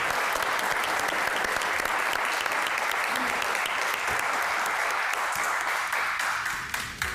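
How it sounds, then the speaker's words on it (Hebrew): A studio audience at a Hanukkah candle-lighting broadcast applauds army reservists with thick, continuous clapping that stays loud and even throughout, with a faint crowd murmur mixed in. "תנו להם כפיים למילואימניקים."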